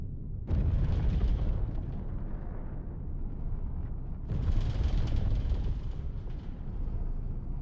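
Grenade explosions in a video game set amid spaceship combat: two long, loud blasts, the first starting about half a second in and the second near four seconds, each trailing into a heavy rumble that fills the clip.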